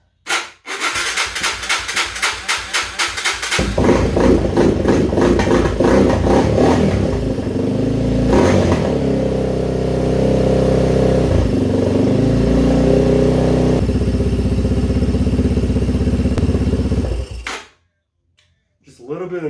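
A Yamaha Raptor 250 ATV engine cranks with rapid chugging pulses, catches and runs at a steady idle with a slight rise in revs, a little mechanical noise from the cam area, then cuts off abruptly near the end.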